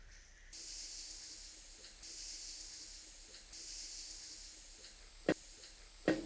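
Grated tomato hits a hot paella pan and hisses steadily, a soft continuous sizzle with a couple of sharp knocks near the end.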